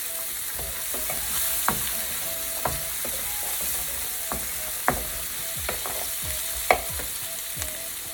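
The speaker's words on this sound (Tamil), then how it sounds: "ஸோ இப்போ வந்து வெங்காயம், அதுக்கு தேவையான அளவு கொஞ்சமாக உப்பு," Onion and salt fry in a pan for coconut rice, a steady close sizzle broken by frequent light clicks and scrapes of a spoon stirring against the pan, with no speech.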